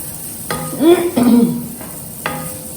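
Chopped capsicum sautéing in a pan for a paneer sauce, with a soft sizzle under a spoon scraping and stirring in several short strokes.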